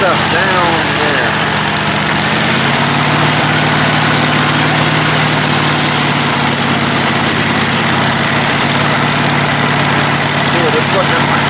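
A mowing machine runs continuously while cutting overgrowth beside a creek, its engine a loud, steady drone for the whole stretch with no pauses.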